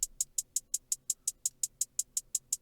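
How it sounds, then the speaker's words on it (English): Bright, ticking hi-hats from a hip-hop beat, struck in a steady even run of about fifteen quick hits, close and alone with no talk. "Got some hi-hats."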